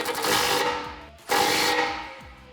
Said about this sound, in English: while supporting the carrier, I'm gonna tighten this down with a 35mm axle socket